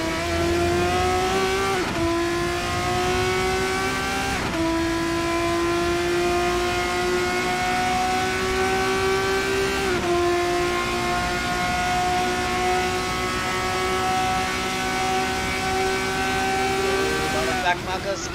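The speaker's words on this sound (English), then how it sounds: "Let's just hear the sweet sound of this Formula 6 as he gets closer or further from the car." Formula race car engine in a racing video game set at Imola, a loud, high, continuous whine that climbs steadily in pitch through upshifts, with brief drops at each gear change, with a voice talking throughout.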